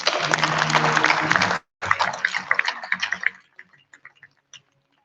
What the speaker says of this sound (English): I think that deserves a warm round of applause.